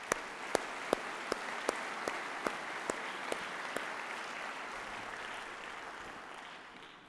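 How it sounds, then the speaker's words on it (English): Applause from the audience at the opening ceremony of the 9th World Chambers Congress, a steady wash of clapping with a few sharp claps standing out early on, fading gradually toward the end. "thank them all with a hearty round of applause to show our gratitude"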